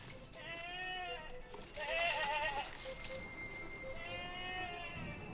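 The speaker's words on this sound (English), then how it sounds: "The goat." A goat in a TV drama bleats in several long, wavering cries, loud and close over a steady outdoor background hiss.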